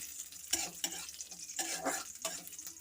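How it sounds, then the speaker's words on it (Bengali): Cashews and raisins fry in ghee for carrot halwa: a soft sizzle rises in bursts as they are stirred, with scraping and light clinks of a spoon against the pan. "এবার সেই ঘিয়ে দিয়ে দেবো কাজু বাদাম আর কিশমিশটা। এটা একটু ভেজে নেব।"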